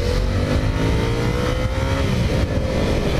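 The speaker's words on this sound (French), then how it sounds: "elle fait un bruit de petite moto" A Yamaha MT-07 motorcycle engine revs loudly and continuously close by, sounding like a small motorcycle, its pitch rising and wavering.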